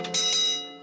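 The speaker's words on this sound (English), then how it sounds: "that'll have a big bell" A single bright ring from a large metal ship's telegraph bell, struck once and sustaining briefly with a clear ringing tone before fading.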